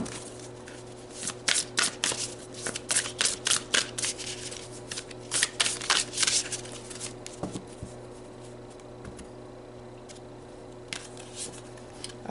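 Tarot cards shuffled by hand during a card reading, giving a run of quick papery riffles and slaps in uneven bursts, close and fairly soft over a quiet steady background hum, with no talking.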